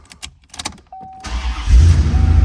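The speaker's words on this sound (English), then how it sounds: "we'll go ahead and start the car up" A 1994 Chevrolet Corvette convertible engine cranks and catches, rising into a loud, deep rumbling idle after a few quiet clicks and clunks.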